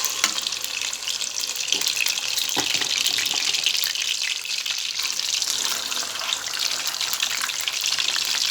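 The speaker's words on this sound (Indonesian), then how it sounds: "Ini udah aku goreng kemarin nggak kemakan, ya udah aku goreng lagi" Leftover food from yesterday crackles and sizzles steadily in hot oil over a medium flame, a constant close hiss with scattered pops and no talking.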